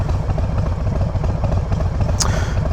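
A Harley-Davidson motorcycle with dual exhaust idles close by, heard from the front, with a steady loping low rumble throughout and a brief higher clatter near the end.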